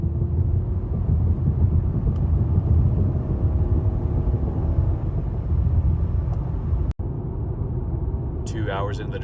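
Steady low road rumble inside an Acura TLX PMC Edition cruising on a highway road trip in Arizona, a constant dense drone with a brief dropout and a faint tonal chirp near the end.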